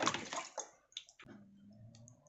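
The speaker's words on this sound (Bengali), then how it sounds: "তার জন্য দিয়ে দিচ্ছি পানি" Water poured into a pot of boiled beef tripe: a brief splashing gush, a few quieter sloshes, then a low settling trickle that fades, quiet and close.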